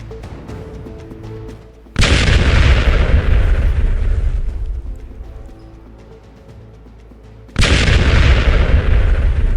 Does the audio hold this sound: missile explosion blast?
yes